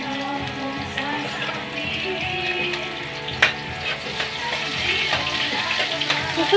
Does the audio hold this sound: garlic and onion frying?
yes